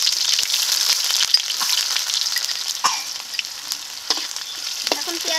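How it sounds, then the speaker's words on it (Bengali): Chopped onions with a bay leaf and whole cumin sizzle in hot mustard oil in a kadai, a steady close crackling hiss broken by a few sharper pops and light scrapes. "এখন পেঁয়াজটাকে ভালো করে ভেজে নেবো লাল লাল করে।"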